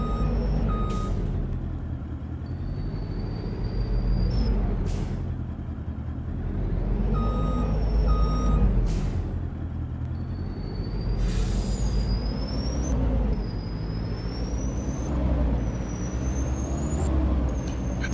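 A truck in Farming Simulator 22 reverses with a steady series of high, evenly spaced beeps over a constant low engine rumble, broken by a few sharp air brake hisses.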